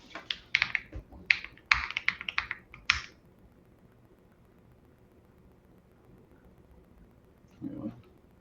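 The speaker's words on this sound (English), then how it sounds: "Keyboards." Rapid typing on a computer keyboard, bursts of crisp clicks for about three seconds, then quiet room tone with a brief muffled sound near the end.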